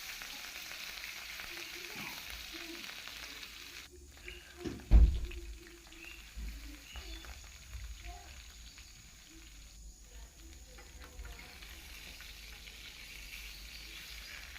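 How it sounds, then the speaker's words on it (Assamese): Fish pieces fry in a pan with a quiet, even sizzle, broken by a brief clatter partway through, while faint voices murmur in the background. "মাছ কেইপিচ প্ৰথমে ফ্ৰাই কৰি ল'ম"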